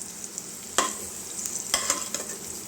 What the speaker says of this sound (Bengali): কড়াইয়ের এক পাশে সরিয়ে নিলাম পেঁয়াজটা